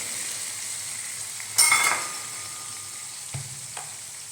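Water poured into a pan of frying parshe fish curry bursts into a loud, brief hissing sizzle, then settles into a steady background crackle with a couple of small clinks.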